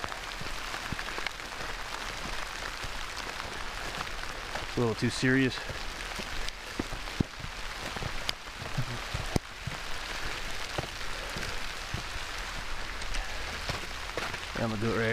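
Rain falls steadily on a hike through Afton State Park in Hastings, Minnesota, a constant close patter across the whole stretch while someone talks over it.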